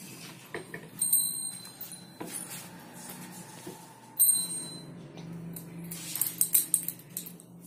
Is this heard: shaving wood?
no